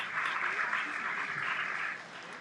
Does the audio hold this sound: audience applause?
yes